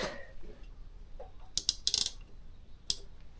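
Tiny metal washers and a nut clink together in a hand during an AC compressor repair on an Alfa Romeo car. A few sharp little taps and jingles come close by against a quiet background.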